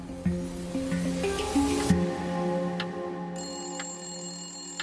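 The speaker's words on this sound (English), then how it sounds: "Not long after, the phone rang." A telephone rings with a few bright, repeated electronic tones, fairly quiet and alone against a dim tonal background.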